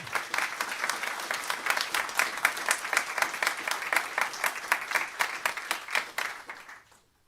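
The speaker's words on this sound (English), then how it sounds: "please give another warm applause to Braid" Conference audience applauding a speaker after a talk, a brisk run of many hands clapping with distinct claps standing out, holding steady before fading out quickly at the end.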